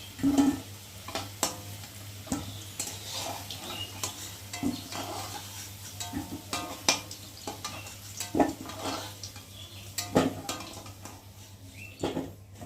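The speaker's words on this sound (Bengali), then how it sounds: "আর এখন আমি একে একে আলুগুলোকে তুলে নেব।" Fried potato pieces are lifted one by one from hot oil in a pan, with a steady low sizzle under repeated sharp clinks and scrapes of a utensil against the pan.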